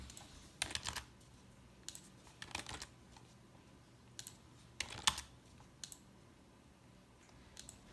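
Fingers type on a computer keyboard in quiet, irregular bursts of light clicking keystrokes with short pauses between, close and soft.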